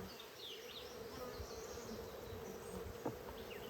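Honey bees buzzing steadily at an open hive, a dense continuous drone with the occasional louder bee passing close, over faint outdoor background and no talking.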